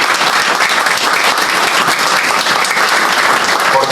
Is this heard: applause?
yes